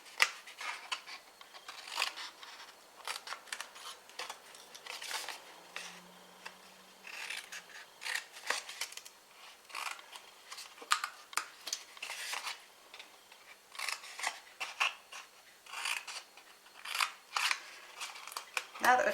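Scissors cutting paper squares away for an exploding surprise box craft: many quick, crisp snips close by in uneven bursts, fairly quiet, with soft rustling of the paper between cuts.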